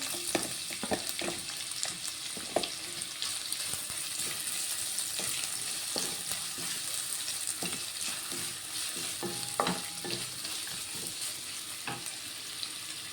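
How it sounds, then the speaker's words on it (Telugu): Carrot goes into a pan of frying garlic and is stirred, giving a steady sizzle with irregular scraping and tapping from the spatula, close but fairly quiet, with no one talking. "ఇప్పుడు ఇందులో క్యారెట్ వేసుకుంటున్నాను"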